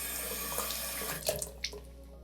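Tap water runs steadily into a sink while wet hands mix a skincare product, a soft continuous splashing with a few brief louder splashes near the middle, fairly close and with no talking.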